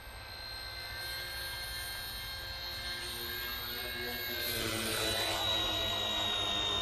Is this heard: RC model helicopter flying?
yes